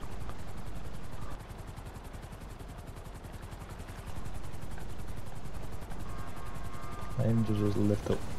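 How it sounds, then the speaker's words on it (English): Helicopter rotor chop from Grand Theft Auto V, a rapid rhythmic thumping that runs throughout under game noise, ending with a louder mechanical rattle and clatter near the close. "do you want me to use the helicopter then?"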